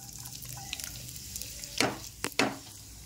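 Chopped onions frying in oil for chicken curry, a quiet steady sizzle with two louder bursts of stirring or crackling near the end.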